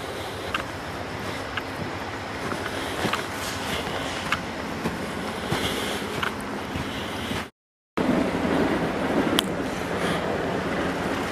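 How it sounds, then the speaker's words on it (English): An Amtrak passenger train rumbles past at a moderate distance, a steady broad roar with faint clanks and squeals, briefly cut by a short gap of silence. "There's Amtrak, 8 hours late."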